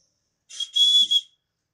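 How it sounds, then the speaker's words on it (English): A steam cleaner's whistle blowing, which had been jammed with Teflon tape, gives two close, loud, piercing toots, the second held longer, then stops. "that's the steam cleaner doing that"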